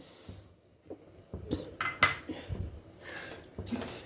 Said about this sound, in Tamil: அதை நல்லா செவக்க வறுத்தரணும்